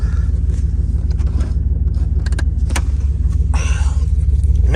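A Jeep's engine idles and rumbles steadily as it drives off in the desert after a failed start, a constant low drone up close with a few brief clicks and rattles over it.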